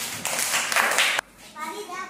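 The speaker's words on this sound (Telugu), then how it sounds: "Very good. క్లాప్స్." A group of schoolchildren clapping in a classroom, a short burst of applause heard under a voice, followed by quieter chatter.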